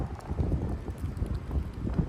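Night wind gusts of about 30 mph in Frisco, Texas, roar as a steady low rumbling rush with buffeting microphone noise and no voices.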